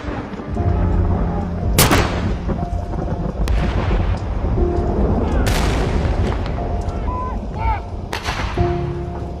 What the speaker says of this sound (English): followed by gun salutes to mark the passing of Queen Elizabeth II